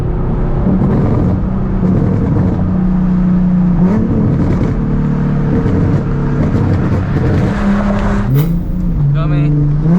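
Nissan 370Z Nismo fitted with a Tomei exhaust and Z1 Y-pipe runs with a loud, steady engine drone that rises and falls in pitch like light revving, with a person talking over it.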